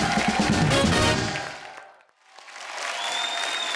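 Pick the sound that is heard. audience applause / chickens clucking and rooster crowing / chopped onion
audience applause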